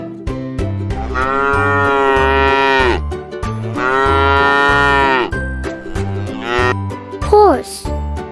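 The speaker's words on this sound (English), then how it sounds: "Cow." A cow lets out two long, loud, drawn-out moos, close and clear, over a rhythmic musical backing beat.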